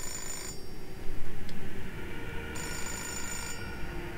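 A telephone rings in the video game Fahrenheit, two bursts of bright electronic ringing separated by a short pause, fairly loud over a low background hum.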